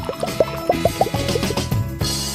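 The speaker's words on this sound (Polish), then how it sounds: "Wystarczy, że zaleję moją kartkę wodą." Water poured onto a sheet of paper gives a close, bubbly glugging and splashing, with several distinct plops early on and then a steadier rushing flow.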